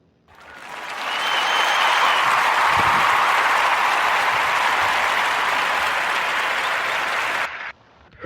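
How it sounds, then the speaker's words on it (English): A podcast audience breaks into a round of applause, dense clapping that rises within a second, holds loud and even for about six seconds, then cuts off abruptly. "So we're going to give a narrative podcast round of applause for Wes Moore and Kim Ballard."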